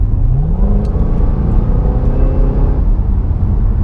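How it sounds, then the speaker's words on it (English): A Cadillac CTS-V engine revs loudly up close with a rising high-pitched supercharger whine over a deep rumbling Corsa exhaust. "you get that insane supercharger whine. The Corsa exhaust system sounds incredible back there."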